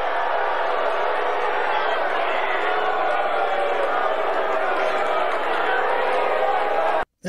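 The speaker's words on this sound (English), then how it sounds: "That was Donald Trump getting booed straight off the forking stage at the Libertarian Convention." A large crowd at the Libertarian Convention roars continuously at Donald Trump, a dense, loud wall of booing and shouting that holds steady for about seven seconds before cutting off abruptly.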